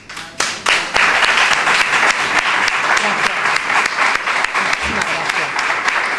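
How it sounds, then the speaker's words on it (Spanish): Loud, sustained audience applause with many hands clapping, rising quickly and continuing steadily throughout. "Pues vamos a darte un aplauso de despedida."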